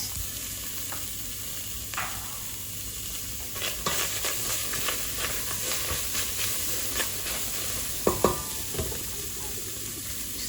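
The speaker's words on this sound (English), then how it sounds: "we've put another pot on the stove, maximum heat, and we're going to add the onions" Onions sizzle and crackle in a preheated pot on maximum heat, a steady frying hiss broken by scraping stirs and a couple of louder clatters.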